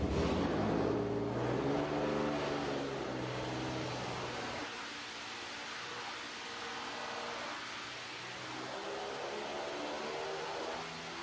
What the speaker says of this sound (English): the motor sounded awesome with the long tube headers on it and the U-bends